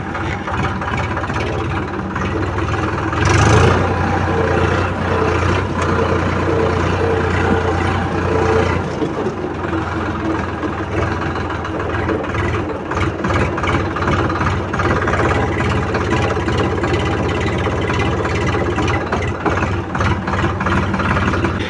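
Eicher 551 tractor, a 2024 model, engine running in fourth gear low range, a steady close diesel rumble with a brief louder bump early on.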